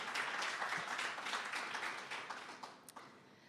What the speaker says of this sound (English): could we please give a round of applause for our panelists and our moderator?